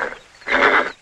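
A tiger gives a single short, loud roar up close, a brief low growl before it that swells into a harsh burst and then fades, from a 1972 film scene set on a tiger hunt.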